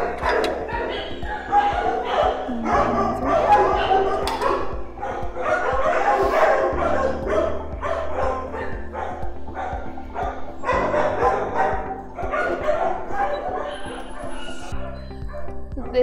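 Several dogs bark, yip and whimper in an outdoor play yard at a dog daycare, dense and overlapping throughout, with a person talking over the noise.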